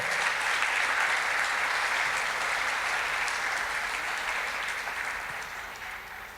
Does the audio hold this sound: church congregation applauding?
yes